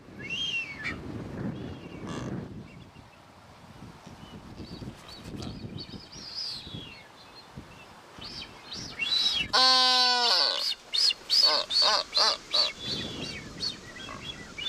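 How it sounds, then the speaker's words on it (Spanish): Blue-footed boobies call at a rocky Galápagos nesting site, with scattered clicks and chirps early on, then a loud harmonic honking whistle followed by a rapid series of sharp calls toward the end. "Aves como estos piqueros de patas azules"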